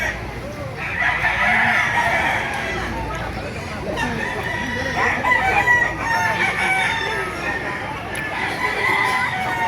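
Roosters crow repeatedly at an open-air poultry market in Baliuag, several birds calling loudly and overlapping, with clucking and a busy crowd murmuring underneath.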